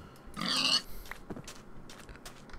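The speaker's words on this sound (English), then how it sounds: "These pigs." Pigs in the video game Minecraft grunting, with a few short oinks and snorts at moderate volume and a louder burst early on.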